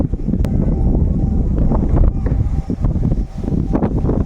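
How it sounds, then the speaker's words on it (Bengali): Steady low wind rumble buffets the microphone throughout in open fields in the Sundarbans, with gusts rising and falling, alone without voices. "একটা হালকা হাওয়া বইছে"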